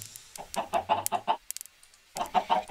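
Game chickens on a virtual farm give two clusters of rapid, close clucking separated by a brief gap filled with a few small clicks, with no voices.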